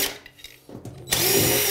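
A power drill backs out the screws of a bathtub overflow plate during a bathroom renovation. A few brief whirring starts are followed by a loud, steady, close motor whine that runs on to the end.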